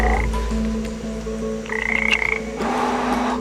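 A frog croaks in short, repeated bursts while held between sticks and irritated to make it release its toxic slime, in the Peruvian Amazon near Iquitos; the croaks are close and loud, with steady low background noise.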